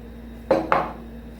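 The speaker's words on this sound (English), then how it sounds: "And you just keep on stirring that." Two quick metallic clinks of a spoon against a pot while stirring peas with sugar, close and crisp over quiet background hum, no talking.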